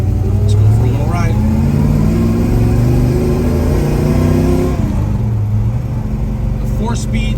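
A 1969 Chevrolet Chevelle with a 396 V8 and four-speed manual accelerates on a drive, a loud, close, deep engine rumble that climbs in pitch through gear pulls, with brief interruptions from shifts.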